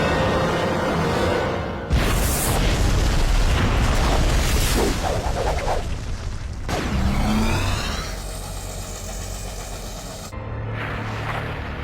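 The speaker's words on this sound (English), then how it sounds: "we've learned the megaton force of the turbo explosion" A cartoon turbo explosion bursts in with a loud roaring boom, followed by rumbling blasts and a whooshing sweep, then a sudden cut to quieter noise near the end.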